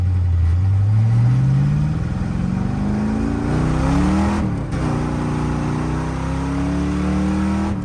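A Dodge Dart V8 with nitrous and a four-speed manual pulls hard up through first, a brief dip at the shift, then climbs again in second, a loud, close engine roar throughout.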